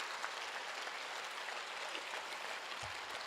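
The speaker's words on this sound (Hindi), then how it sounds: "दोनों हाथ उठाकर 1 मिनट की तालियां" Sustained audience applause at a live Hindi Holi poetry recital (kavi sammelan) in Kolkata, steady even clapping from a crowd heard from a slight distance, without talk.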